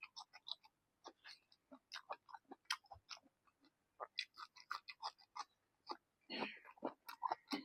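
Someone eating crab, producing faint, close, irregular crunching and clicking chews in quick succession, with brief pauses and a busier stretch of louder chomping near the end.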